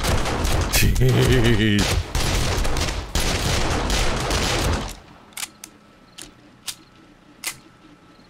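Automatic turrets fire at zombies in the video game 7 Days To Die: dense, loud rapid gunfire with a brief exclamation, then the fire breaks into a few spaced single shots.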